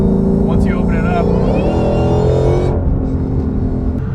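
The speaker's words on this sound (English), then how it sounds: "So while the car is under load, you're going to hear this slight sucking sound coming from the diaphragm." Ford GT500 with an aftermarket supercharger whine mod, heard under load as a loud engine drone with rising high-pitched whine tones that swell, then drop away as the throttle eases, with speech faintly beneath.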